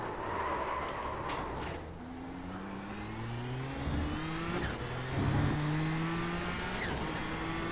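Nissan GTP prototype race car engine in the iRacing simulator at Spa, a steady mid-pitched drone with rising tones as it accelerates through gears, running continuously and fairly loud with no talking.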